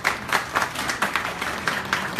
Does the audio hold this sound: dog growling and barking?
no